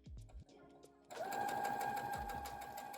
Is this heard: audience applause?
no